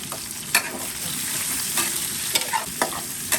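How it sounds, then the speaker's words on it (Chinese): Ginger and garlic stir-fry in oil with a constant close sizzle, broken by a few sharp spatula scrapes against the pan. "把这些煸炒出来，煸出一点油啊"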